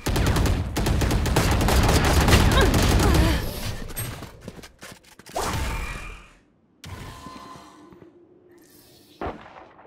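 A rapid burst of gunfire rattles loudly during a round of Valorant, giving way to scattered mechanical clicks and reloading clatter, with brief quiet gaps and a few lone sharp shots afterward.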